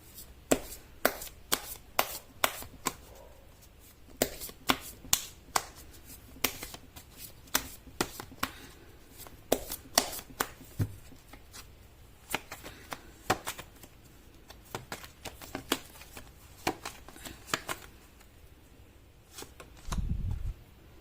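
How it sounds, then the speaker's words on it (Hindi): Tarot cards being shuffled by hand, a long run of crisp riffling snaps and flutters repeating in quick bursts close to the mic, with a brief low thump near the end and no talking. "मैं कर लेती हूँ कार्ड की शफलिंग।"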